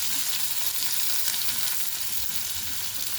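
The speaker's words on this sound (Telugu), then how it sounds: "ఉల్లిపాయ, పచ్చిమిర్చి వేసేద్దామండి." Onion and green chilli frying in a pan give a steady, close hiss of sizzling oil that runs unbroken throughout, with no talking.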